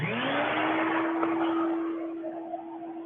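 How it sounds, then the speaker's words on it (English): A shop vacuum cleaner runs steadily and loud on its own in a woodworking shop where a cedar chess board is being sanded, holding a constant whine before easing slightly near the end. "Noise, vacuuming."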